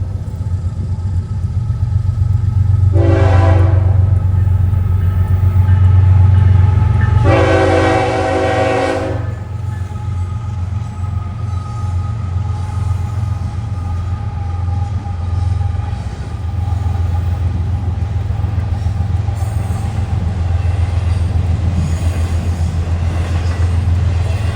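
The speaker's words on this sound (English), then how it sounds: "a northbound mainline freight was coming across the crossing and taking the siding." A northbound mainline freight train on the Florida East Coast Railway rumbles loudly and steadily through a crossing, its horn blasting twice, a short blast then a longer one, over the continuous roar of the passing cars.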